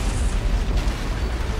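A sustained, loud rumbling blast from an antimatter charge going off aboard a ship, heavy and broadband low roar filling the whole moment without voices, from a Halo: Combat Evolved cutscene.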